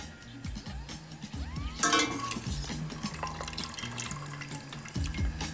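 Cooked pasta goes into tomato sauce in a pan, with wet sloshing, stirring and a sharp clattering splash partway through, close up and fairly quiet, with no talking.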